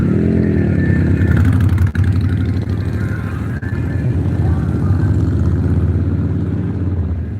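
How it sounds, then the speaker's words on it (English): Several motorcycles pass along a street, their engines droning and revving loudly and close, with some clatter as the roar slowly fades toward the end. "Motorcycles coming up the street, guys."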